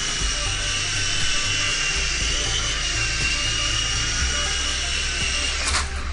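A small toy helicopter whirs steadily with a high-pitched motor whine, hovering close by, its buzzing pitch shifting slightly as it maneuvers.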